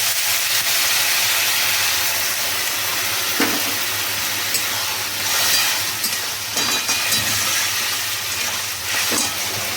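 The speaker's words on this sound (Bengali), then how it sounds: "তো দেখো আমি এর মধ্যে জল অ্যাড করে দিচ্ছি।" Water poured into a pan of sautéed spices for a mushroom curry sets off a steady loud sizzle and hiss of steam, with a few brief stirring scrapes.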